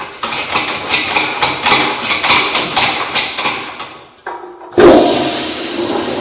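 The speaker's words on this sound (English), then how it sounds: "Flush your toilet" A household toilet is flushed after plumbing work on a leaking fitting; a run of rhythmic thumping pulses gives way to a sudden loud rushing whoosh of water draining close by.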